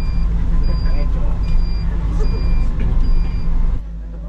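A Comet electric jeep, a passenger bus, drives uphill and around curves in Baguio with a steady road rumble and a faint whine. Someone talks over it, and the noise drops off near the end.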